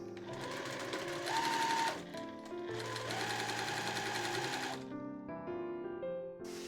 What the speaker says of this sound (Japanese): 同じように4箇所とも縫っていきます。